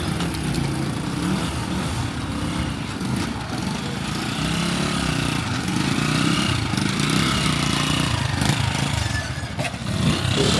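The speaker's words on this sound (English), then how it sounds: "he's about to start a motorcycle" A motorcycle engine runs steadily at a Ghana building site, a continuous low rumbling drone that stays loud and even throughout with no speech.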